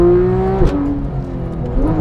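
A Porsche 911 GT3 (991.1) with PDK transmission revs hard and then drops pitch abruptly at a quick gear shift, with the engine note climbing again toward the end, loud and close.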